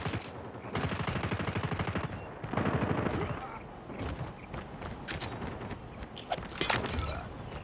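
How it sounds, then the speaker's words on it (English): A hostile sentry gun in Call of Duty Mobile fires rapid automatic bursts, a dense rattling stream of shots with short pauses and scattered louder reports, set against steady battle noise. "Be advised, hostile sentry gun spotted."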